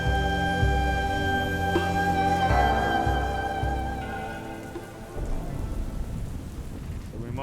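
Rain falls steadily in an outdoor storm, a broad hiss with a few distinct drops and low thunder-like rumbles, sustained throughout with no speech.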